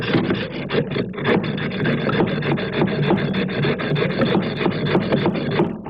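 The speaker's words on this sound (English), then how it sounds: "the hacksaw blade will indeed do it, but that's a hard way to go when you're working on a slate floor" A hacksaw cuts a small notch in a slate floor tile with fast, steady back-and-forth rasping strokes that run loud and close without a break.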